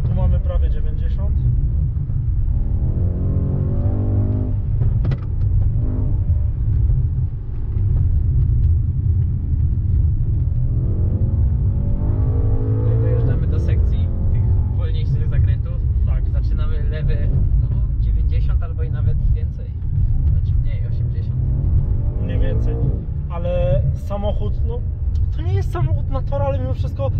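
Car lapping a race track, its engine rumbling low and steady throughout with rising and falling revs, heard from inside or close by while people talk over it.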